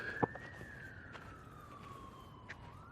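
A siren wails from across Los Angeles below Runyon Canyon, its tone sliding slowly downward then rising again, faint and far off over steady outdoor ambience with a sharp nearby tap early on.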